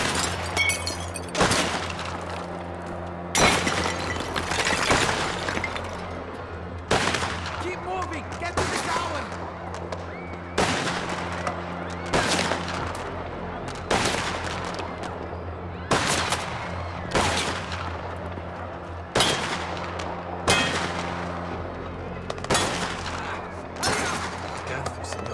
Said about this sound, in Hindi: भाई ये तो लगा ही पड़ा है, धड़ाधड़ गोलियां चलाई जा रहा है।